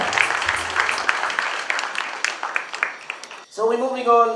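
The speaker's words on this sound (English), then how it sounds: "Round of applause once again." An audience at a business awards ceremony claps after a Nail Technician of the Year winner is announced, a sustained burst of applause that fades out before a presenter's voice takes over at the end.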